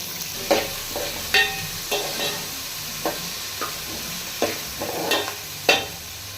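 Four large onions fry in a pan while being stirred, with a steady low sizzle broken by a series of sharp scraping strokes at an uneven pace, close by.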